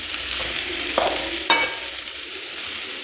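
Onions sautéing in a pan for a village-style kurma, a steady bright sizzle with a couple of stirring scrapes of a spoon against the pan partway through.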